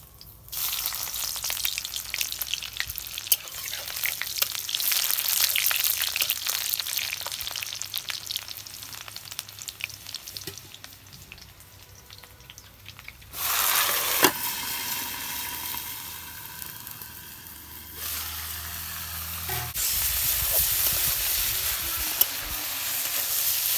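Mustard oil sizzles and spits steadily in a wok, with occasional stirring scrapes and louder bursts as bitter gourd hits the hot fat.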